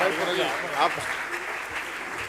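Audience applause fills a radio awards gala hall, a steady broad wash of clapping that carries on throughout with a voice talking faintly over it.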